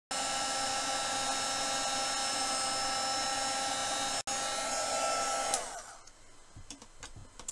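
A heat tool blowing hot air to warm craft material, a steady close whooshing hum with a high whine that winds down and stops after about five and a half seconds, followed by faint handling noises.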